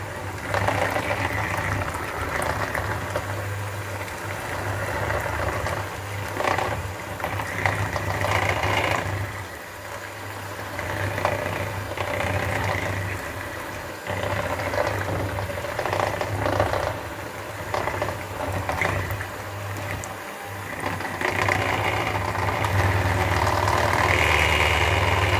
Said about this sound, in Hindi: अभी बीटर को फिर चलाएं